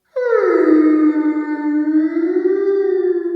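A long, deep, mournful vocal cry, a voice pitched down to imitate a whale, sustained and wavering with heavy echoing reverb.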